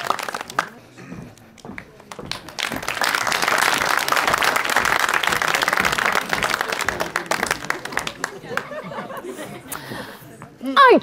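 An audience at a live comedy show breaks into sustained applause that swells and holds steady for several seconds, mixed with scattered laughter and voices before and after.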